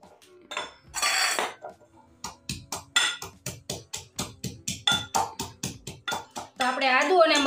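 Green chillies and ginger pounded in a mortar: a quick, steady run of about fifteen hard, close thuds with clinking ring. A voice is heard before and after the pounding.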